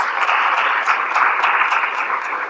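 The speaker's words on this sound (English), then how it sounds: "let's give these folks a round of applause" Conference audience at an opening plenary claps in a dense, steady round of applause, moderately loud and even throughout with no talking over it.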